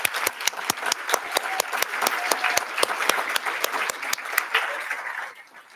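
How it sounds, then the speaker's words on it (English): Audience applause at a pediatrics residency graduation ceremony, a dense, steady wash of many hands clapping with sharp individual claps standing out, holding strong before thinning and fading at the end. "Let's give a huge round of applause for all of those family members who supported you."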